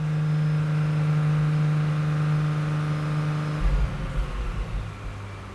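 An Audi S5 engine holding around 2500 to 3000 RPM during turbocharger replacement work, a loud steady hum that drops off partway through into a rougher, lower idle rumble.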